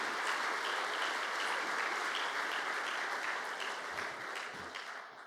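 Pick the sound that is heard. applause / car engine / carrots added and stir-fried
applause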